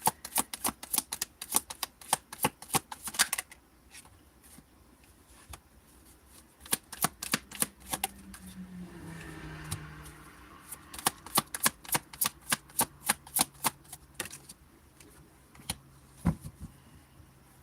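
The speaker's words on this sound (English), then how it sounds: "So let's pull a few cards for this." Tarot cards are shuffled and riffled close up in repeated bursts of sharp flicking clacks, broken by short pauses and a brief soft sliding sound partway through.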